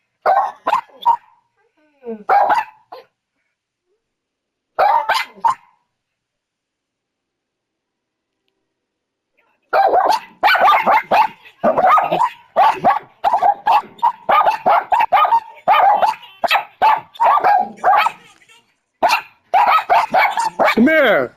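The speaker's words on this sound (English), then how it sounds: "And it's still barking." A dog barking repeatedly, with loud close bursts at first, then a long silence, then a fast, sustained run of barks and yips that keeps going to the end.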